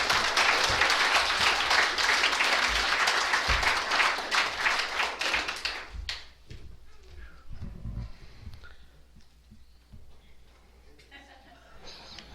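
An audience at a recovery meeting gives a big round of applause to welcome a speaker named Mark: loud, dense clapping for about six seconds that fades out abruptly, leaving quiet room tone with scattered faint movement.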